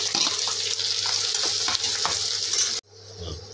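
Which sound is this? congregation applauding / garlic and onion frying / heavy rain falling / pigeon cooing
garlic and onion frying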